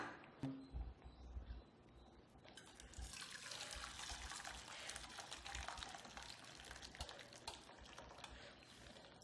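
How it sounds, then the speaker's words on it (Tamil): Boiled snack dough pieces drain through a strainer, letting out a faint, continuous pour and splash of water after a few quiet moments. "இப்போ நான் இதை வடிகட்டி எடுத்துக்கிறேன்."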